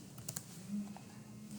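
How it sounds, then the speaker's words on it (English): Keys tapped on a computer keyboard while entering a spreadsheet formula, a few quiet clicks in a short burst, faint and close. "So I am typing"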